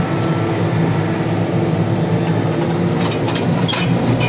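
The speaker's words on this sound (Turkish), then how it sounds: "Traktörün nasıl kendi kendine vites değiştirip istenilen oranı yakaladığını göreceğiz." Massey Ferguson M 5711 tractor driving during a plough test drive, its engine a steady loud drone with continuous low rumble and a few faint higher clanks near the end as gears shift automatically.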